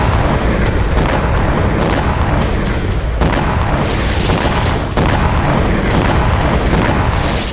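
Loud, continuous roaring blast with heavy rumbling, dense and sustained, sharp surges near the start and middle, from a drone strike exploding an oil depot and burning fire up close.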